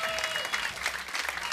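Studio audience applause at a live Indonesian TV entertainment show, a dense, steady clapping wash filling the whole moment at moderate loudness with a bit of crowd noise.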